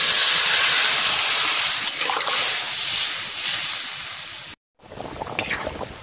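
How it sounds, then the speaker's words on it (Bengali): Water poured into a pan of taro curry cooking with turmeric sets off a loud, steady steam hiss that suddenly cuts out, then returns softer with faint bubbling. "জল দিয়ে দিচ্ছি।"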